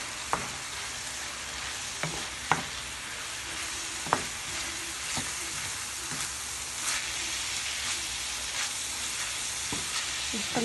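Small cubes of chicken fry in a pan with peppers and onion, making a constant close sizzle broken by a few sharp utensil clinks as the mix is stirred.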